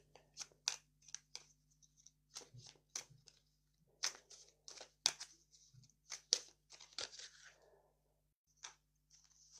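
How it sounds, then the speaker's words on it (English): Tarot cards being shuffled across a tabletop make a run of sharp, close slaps and papery riffles in uneven bursts, with quiet gaps between them. "I'm going to shuffle these all over the table"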